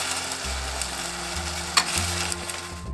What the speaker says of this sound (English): So now you can see the potatoes start cooking